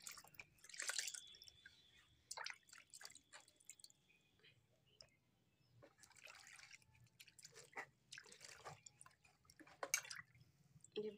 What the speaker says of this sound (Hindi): चलिए इसे हम पानी में अच्छी तरह से धुल लेते हैं।